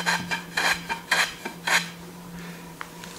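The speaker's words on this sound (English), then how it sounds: "So I want to create about a 16th inch or 1/8 inch chamfer around the 4 edges." Sandpaper rubbed by hand along the edges of a wooden table leg to form a small chamfer, four short raspy back-and-forth strokes, then quiet with a faint tap.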